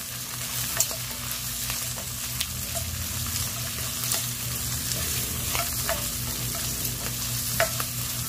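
Shrimp is stir-fried with onion and garlic in a pan for pansit canton, a continuous close sizzle with a low steady hum and occasional light taps and scrapes from mixing, no voices.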